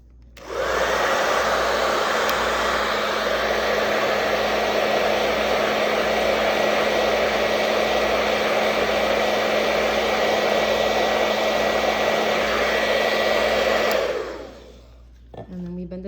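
Heat blower running continuously to warm a plastic eyeglass temple for bending, a loud steady whooshing roar for about fourteen seconds before it cuts off.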